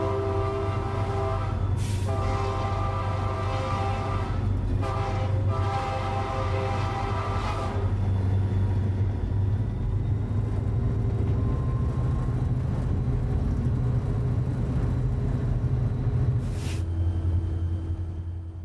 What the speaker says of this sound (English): Cliff applies more throttle now to keep the train moving up grade through Cuba at track speed.